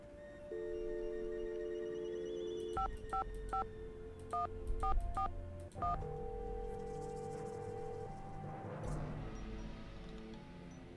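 Telephone keypad dialing tones in the Nancy Drew game Secret of the Scarlet Hand, a rapid series of distinct DTMF beeps in a few quick bursts over a steady tone, fairly close and clear.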